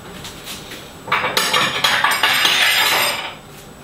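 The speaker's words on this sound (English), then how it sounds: "I'm going to grab a little mixing bowl" A small mixing bowl is pulled out in a kitchen, giving a short run of close clinks and clattering rattles of dishes lasting about two seconds before settling quiet.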